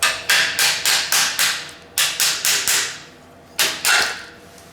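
A hammer strikes a car suspension strut while freeing its spring, sharp metallic blows landing in quick bursts of four or five with short pauses between, loud and close.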